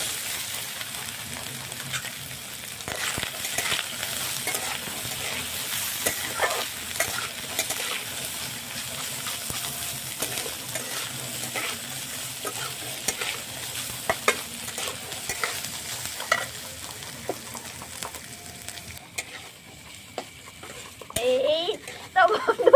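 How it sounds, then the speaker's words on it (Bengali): Chopped coconut frying in a pan, a soft steady sizzle broken by light scraping stirs and occasional clinks, with a voice speaking over it and a louder clatter near the end. "এবার নারকেলটা ভেজে নিচ্ছি"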